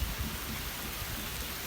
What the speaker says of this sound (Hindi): ये जो लाइटली हल्का फुल्का शोर है ये बूंदाबांदी है